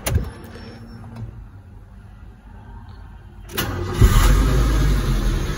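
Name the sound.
Nissan Sunny Neo GL 2007 car engine starting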